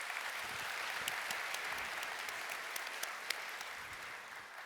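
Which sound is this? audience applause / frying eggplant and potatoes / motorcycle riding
audience applause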